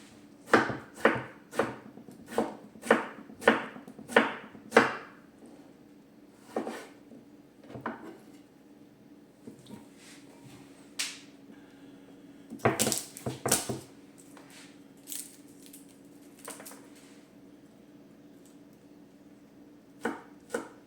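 A knife chops garlic, onion and tomato on a cutting board. A quick run of about ten sharp thuds opens the clip, followed by sparser, irregular chops and a dense cluster near the middle, all close and with no talk.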